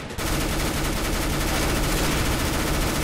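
Gunfire in the video game Counter-Strike: Global Offensive, a dense, continuous burst of rapid automatic shots that starts abruptly and stays loud to the end.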